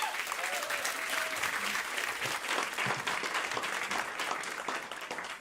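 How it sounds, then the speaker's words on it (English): An audience claps steadily in a dense, even wash of applause that fades slightly at the end. "Please give her a huge round of applause."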